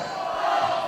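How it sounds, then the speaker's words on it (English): A split wrestling crowd at a PWA heavyweight championship match chants in an arena, a loud, sustained roar of massed voices with no single voice standing out. "The crowd is split. UGG chants, Wahlberg chants."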